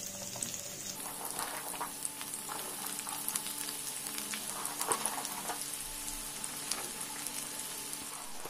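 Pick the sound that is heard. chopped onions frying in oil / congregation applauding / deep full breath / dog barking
chopped onions frying in oil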